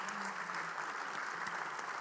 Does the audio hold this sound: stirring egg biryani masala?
no